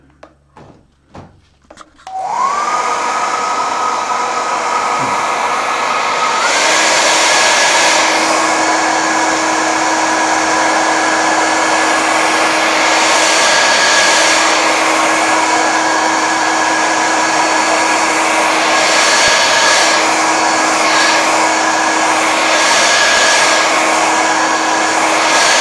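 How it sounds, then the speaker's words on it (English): A hair dryer blows steadily and loudly for over twenty seconds to dry watercolour paint on a painting of a Norfolk church, starting after a few knocks and rising in pitch as it speeds up. "I'm going to have to use the hairdryer again."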